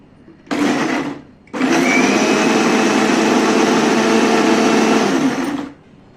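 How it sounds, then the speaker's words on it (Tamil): Kitchen mixer grinder blending onion and tomato into a fine paste. It gives a short loud burst, pauses, then whirs steadily for about four seconds before stopping, close and with no talk. "அந்த வெங்காயம் தக்காளி இது எல்லாமே இதில் சேர்த்து கொஞ்சம் நல்லா ஃபைன் பேஸ்ட்டாக நம்ம அரைச்சிக்கலாம்"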